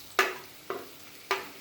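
Curry powder and two cloves of minced garlic hitting hot oil for Jamaican-style curry chicken, giving three short, sharp sizzling bursts that quickly fade, close and clear with no talking.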